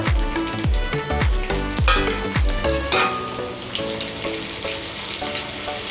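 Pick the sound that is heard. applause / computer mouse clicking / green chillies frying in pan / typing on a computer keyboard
green chillies frying in pan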